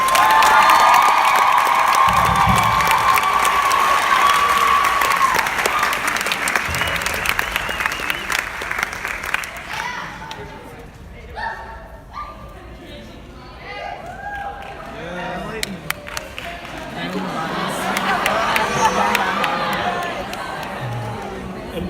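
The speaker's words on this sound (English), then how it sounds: "a huge round of applause for Cameron Alcantara, Ben Pham, Mary Shanky" An audience at a 2019 Glenbard East High School awards show breaks into loud applause and cheering that fades to scattered claps and crowd noise, then swells again near the end.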